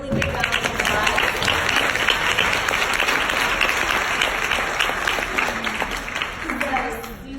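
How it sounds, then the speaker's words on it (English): An audience in a hall at a talk or presentation gives a long, sustained round of applause, with many hands clapping steadily and evenly for several seconds before it begins to fade at the end. "Let's all give her a really big round of applause."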